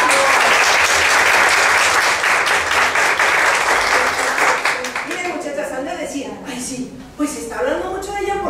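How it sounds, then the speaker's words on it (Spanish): A group of women at a directors' meeting applauds Cristel with dense, loud clapping that tapers off after several seconds into quieter room sounds and voices. "Y otro aplauso para Cristel"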